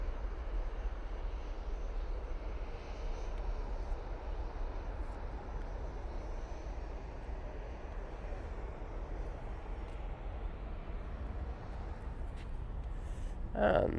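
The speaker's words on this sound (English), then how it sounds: "And there goes that Jet2." A Jet2 airliner departs from Manchester Airport with a broad, steady jet roar that holds at a distant, even level throughout, the rumble filling the background without rising or fading much.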